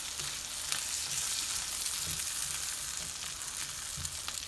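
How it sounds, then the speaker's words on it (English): Corn fries in a pan on low heat with a steady, close sizzle, faint scrapes of stirring coming through at intervals, and no voices over it. "Add all of that corn. I'm gonna stir this."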